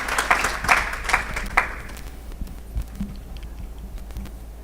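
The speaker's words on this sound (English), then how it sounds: "can we clap for Ibrahim, please?" Audience applause after a talk at the WANIDA Symposium 2023, a short burst of clapping that quickly thins out into scattered claps and room noise.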